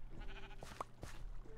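A Minecraft sheep gives a short bleat alone, faint and fairly close, over quiet in-game ambience.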